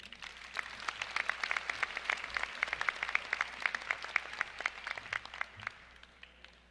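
A graduation audience applauds a speaker being welcomed, a dense burst of many hands clapping that swells, holds steady, then tapers off near the end.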